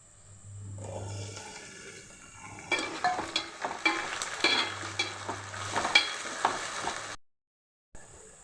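Onions and tomatoes frying in a pan for a cauliflower curry, a steady sizzle with stirring scrapes and clinks, building louder midway before a sudden brief silence and a short return.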